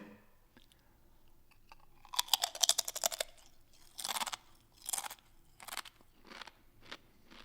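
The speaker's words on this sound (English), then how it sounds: "now carefully listen to the crunch" Potato chips crunched between the teeth before being frozen in liquid nitrogen, a burst of crisp, rapid bites followed by several separate loud crunches, close and dry with no talking.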